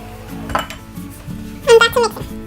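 A metal sifter tapped to sift flour and baking powder for cheesecake brownies, a few close clinks and light metallic knocks, sparse at first and then sharper ringing taps near the end.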